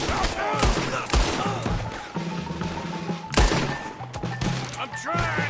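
Gunfire in Red Dead Redemption 2 cracks out in sharp, repeated shots during a close-range fight around a wagon, some shots overlapping, with shouting voices in between.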